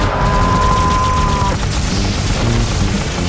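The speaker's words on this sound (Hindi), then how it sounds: "Micro missile Tomcat fire." Micro missiles launching from the Tomcat in an animated cartoon burst out as a rough, rapid volley of blasts and crashes, opening over a thin high whine and continuing as a noisy barrage.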